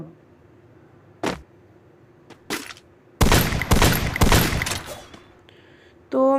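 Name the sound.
gunfire in the video game Garena Free Fire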